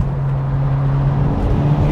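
A turbocharged Ford Escort Cosworth pulls hard with a low, steady engine drone heard from inside the car, a sustained hum with no clear rise.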